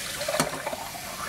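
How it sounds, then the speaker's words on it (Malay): Tap water running into a pot while cooking Prego mushroom carbonara spaghetti, a steady soft hissing stream heard up close for a moment, with a brief splashy burst near the start. "Lepas tu isi air. Kita isi air dalam ni"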